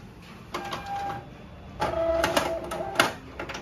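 A Zebra ZC300 card printer prints an ID card, whirring in two motorized passes with clicks, tonal whines and a clunk near the end, heard up close without talk.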